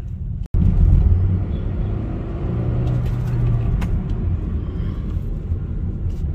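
A petrol Honda City i-VTEC fresh from a major service is driven on a road test, its engine and tyre rumble a steady, continuous drone heard from inside the car, with no talking.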